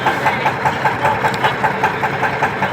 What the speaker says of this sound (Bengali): এই যে দেখেন কত বড় একটা বোট যাচ্ছে।